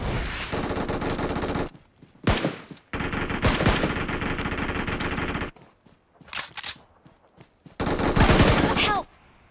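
Bursts of automatic gunfire in the mobile game PUBG Mobile come in loud rapid volleys broken by short gaps and a few single shots.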